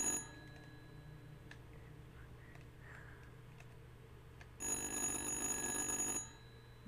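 In the horror video game Little Hope, an old telephone rings in a quiet room; a faint ticking is followed by one loud, bright burst of ringing lasting about a second and a half before it stops.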